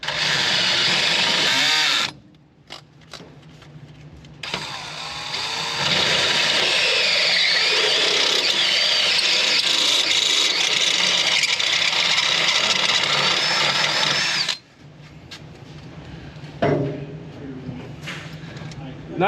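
A power drill fitted with a uni step bit bores a hole in a workshop on an F-4 Phantom project, a steady whining grind running for about ten seconds between brief pauses and bursts of start-up.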